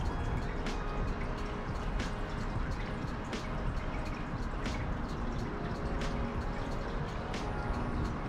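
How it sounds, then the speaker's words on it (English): Ardbeg 10 year Islay whisky pours into a glass as a steady liquid trickle with scattered drips, close and fairly quiet, with no talking. "I feel like I gotta pour a little more of this."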